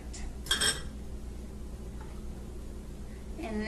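A spoon clinks against a bowl while stirring slightly beaten eggs and melted butter together. A few light metallic taps sound near the start and end over quiet background hum.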